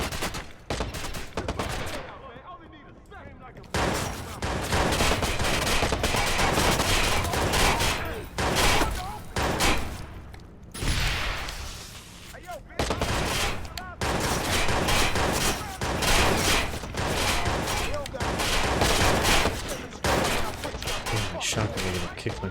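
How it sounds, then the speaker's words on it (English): Rapid bursts of MP5 submachine gun fire in the Fallout 76 video game, loud and dense, with repeated volleys running almost continuously and only brief gaps between them. "I kind of like the MP5, it's pretty nice."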